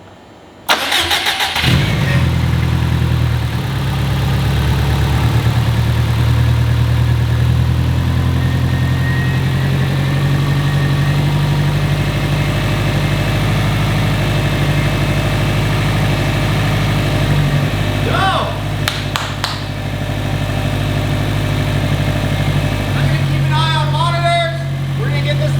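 A 2005 Subaru WRX STI cranks and fires up loudly nearby, then settles into a deep, steady idle that runs on with a slight lope, with a few mechanical clicks later and someone talking now and then.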